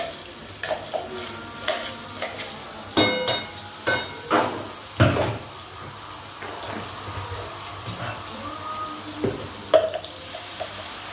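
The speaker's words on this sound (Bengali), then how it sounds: "সবজিটা ভাজা হয়ে গেছে তো এর মধ্যে এখন আমি মশলাটা দিয়ে দিচ্ছি" Vegetables frying in a pan as spices are tipped in, a soft sizzle broken by repeated clattering stirs and scrapes in an irregular rhythm, close and moderately loud, with no talking.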